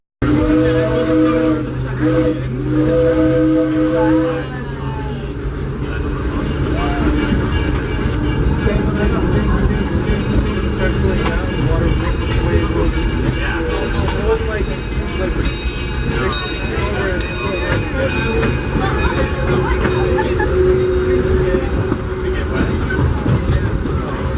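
A steam locomotive whistle sounds in long tones at the start, then the Disneyland Railroad train rumbles and hisses steadily along with loud continuous clatter.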